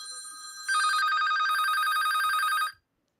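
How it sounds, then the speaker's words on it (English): A telephone rings with a continuous electronic warble and a bright, sustained tone. A second ringing layer joins partway through, so two rings overlap. Both stop together, then silence follows. "Hey, what is that phone?"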